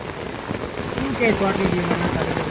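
Steady rain pours down outdoors during a monsoon downpour, a dense continuous hiss of drops close by with no pauses, and a voice murmurs faintly underneath.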